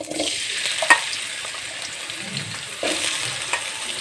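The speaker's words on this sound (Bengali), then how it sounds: "আমি যে কড়াইতে তেল দিয়ে দিয়েছি দেখো আর এই যে আলুগুলো ভেজে নেবো একদম ঝিনি ঝিনি করে" Thinly sliced potatoes fry in oil in a wok, a soft steady sizzle broken by scraping stirs and a sharp clink near the start, close up and fairly quiet.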